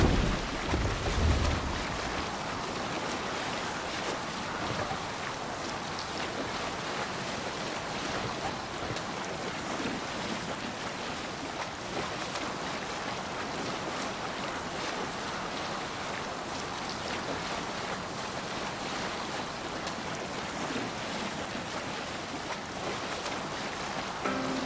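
A Viking longship under sail in Assassin's Creed Valhalla, with steady waves washing against the hull and wind rushing past, a constant ocean wash that stays even throughout with no voices.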